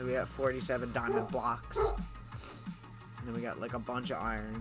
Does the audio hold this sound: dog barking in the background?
yes